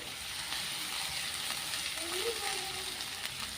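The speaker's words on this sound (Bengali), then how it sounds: "আলুটাও এবারে ভাজবো।" Potatoes frying village-style in a pan give a steady, fairly quiet sizzle with a faint bubbling crackle that runs evenly throughout.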